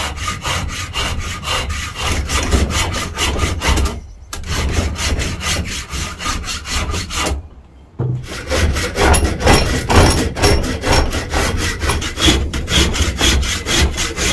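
A hand saw or rasp works steadily back and forth through excess wood on an Opinel-style knife handle, loud and close, with rapid rhythmic strokes broken by two short pauses.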